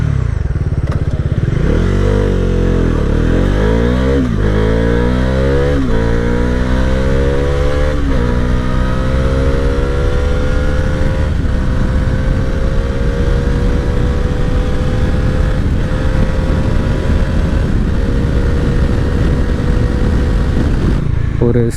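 A Bajaj Dominar 350 motorcycle in sport mode pulls hard along a highway, its engine note climbing and dropping through several quick upshifts before settling into a steady loud drone over rushing wind.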